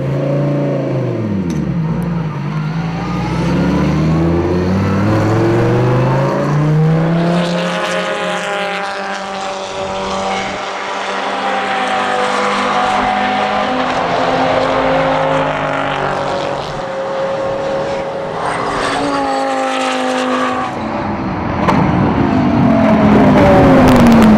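FIA GT3 race cars at Silverstone on the first race weekend of the season, loud engines revving and sweeping past in close succession, pitch rising and falling as cars accelerate and pass nearby.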